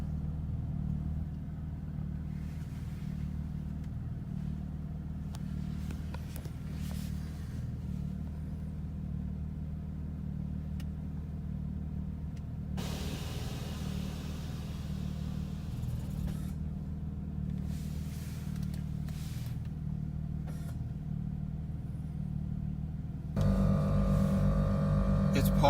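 An air compressor runs with a steady low rumbling drone throughout, close and continuous, with a few faint clicks and a brief hiss before the motor tone gets louder near the end.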